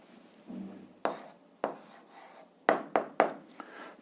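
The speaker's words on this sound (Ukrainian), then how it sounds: "Ну а зараз записуємо відповідь." A pen writes down a math answer on paper, heard as soft close scratches and a series of short, distinct taps and strokes at uneven intervals in a quiet room, with no talk.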